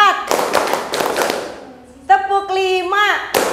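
A classroom of students claps in counted rhythmic patterns, bursts of sharp claps in quick succession followed by a teacher's voice calling out, then more clapping at the end.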